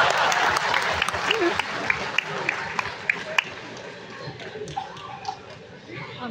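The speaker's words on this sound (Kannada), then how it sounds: "ಜೋರ ಚಪ್ಪಾಳೆ ಅಂತ" Applause from an audience at a Father's Day event: a burst of clapping, fairly distant and moderate in loudness, thins into scattered claps, mixed with crowd murmur and someone talking.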